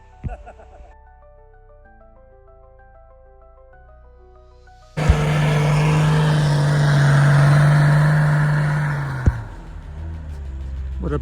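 A Toyota Troop Carrier 4WD is revved hard up a steep snowy track in the Victorian High Country, with a loud, sustained engine roar that starts abruptly and holds for several seconds before cutting back. Quieter sounds come before the roar.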